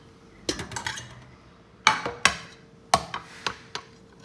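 Green beans coated in butter being plated, with dishes and cutlery clinking in a series of sharp, close knocks and scrapes spaced irregularly across the moment, with no talking.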